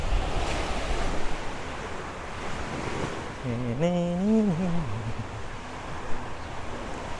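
Sea surf washing steadily close to a beach cottage at Sual, Pangasinan, a continuous broad roar of waves with wind buffeting the microphone, and a brief voice-like tone rising midway.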